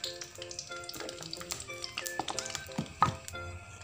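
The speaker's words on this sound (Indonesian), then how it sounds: "Kita goreng bumbunya ya teman-teman." Spice paste of shallots, garlic and candlenut fries in hot oil in a wok, giving a steady close sizzle with crackles and occasional scraping stirs.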